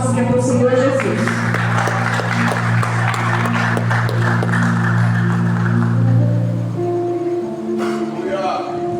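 A church congregation applauds during a Sunday service, steady rapid clapping from many hands filling the room for several seconds while a sustained organ or keyboard chord hums underneath, then the applause fades out near the end.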